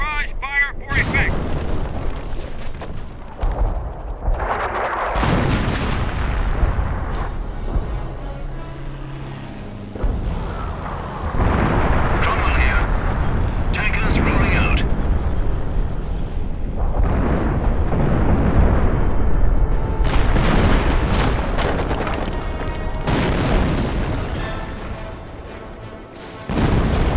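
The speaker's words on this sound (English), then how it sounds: "Creeping barrage fire for effect." Deep booming explosions from a creeping artillery barrage in the video game Company of Heroes: Opposing Fronts roll in one after another, a sustained heavy barrage with rumbling blasts and crashes, loud and continuous throughout.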